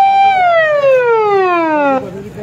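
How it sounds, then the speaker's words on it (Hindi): An ambulance siren wails loud and close on a Pakistani street, its tone sliding steadily downward as it passes, then cutting off abruptly, with traffic noise beneath. "अभी एक एम्बुलेंस आई है"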